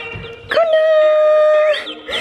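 A dog howls once, a long sustained wail in response to a lunchtime alarm tone played indoors, close and loud, with short yips before and after.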